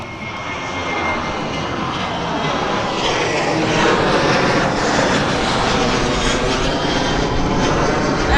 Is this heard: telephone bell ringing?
no